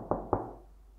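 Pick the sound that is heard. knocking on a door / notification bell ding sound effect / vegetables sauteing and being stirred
knocking on a door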